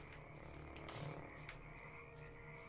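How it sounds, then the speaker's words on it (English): Frogs croaking in the fantasy game Gothic, a layered chorus of rhythmic croaks over a low ambient bed, moderately quiet and steady, with no talking. "I think that's frogs."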